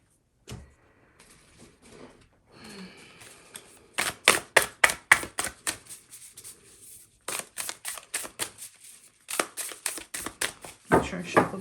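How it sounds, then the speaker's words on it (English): Reading cards are shuffled close by in quick rhythmic bursts of riffling flutters, several rounds separated by brief pauses, with a faint voice near the start. "Make sure I shuffle these up real good."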